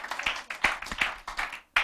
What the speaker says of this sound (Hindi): ताली बजाओ, यीशु की महिमा करे,